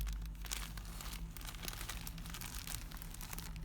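Steady crinkling of a plastic bag holding lacy trim, close and continuous, with soft rustles and crackles throughout and no talking.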